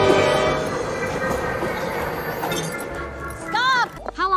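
Train passing in an animated film scene, a loud rumbling, clattering rush with metallic ringing tones, easing off near the end as short vocal sounds and chirps break in.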